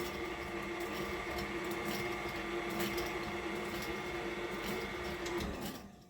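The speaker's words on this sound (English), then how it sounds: "I don't know if you can hear the mixer, but it's working a little harder now." A steady electric mixer motor whirs continuously at moderate distance while mixing cake batter, straining slightly, a constant mechanical hum with faint rattling that cuts off near the end.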